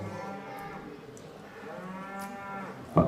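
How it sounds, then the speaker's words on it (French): Cows mooing close by: a couple of long, drawn-out lowing calls, the second rising into a louder bellow at the end, with no talk over them. "il y a même des vaches ici"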